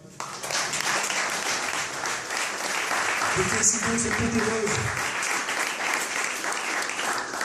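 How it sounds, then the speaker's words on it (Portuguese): A congregation at a church youth camp claps steadily throughout, while a preacher speaks over the applause and a low rumbling tone briefly rises in the middle. "Vamos aplaudir Ele,"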